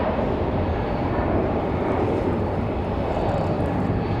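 An airplane rolling along the runway at Raleigh-Durham airport on a windy day, a steady, loud, broadband engine roar and rumble that holds evenly throughout with no breaks.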